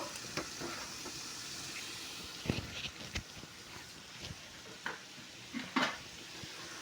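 Food being stirred in a pan on a home stove, steady low sizzle with scattered scrapes and clinks of a utensil against the pan, then a clatter as a lid goes on; no talking.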